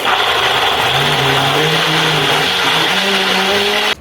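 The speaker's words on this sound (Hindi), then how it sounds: "अब सभी चीजों को हम मिक्सी से महीन पीस लेते हैं।" A mixer grinder blending tomato and cucumber runs loudly and continuously, its motor whirring with a slightly wavering pitch before cutting off abruptly at the end.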